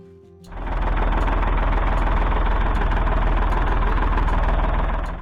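A 1965 Ford 3000 diesel tractor engine starts and settles into a steady, loud, throbbing idle that runs on evenly at close range.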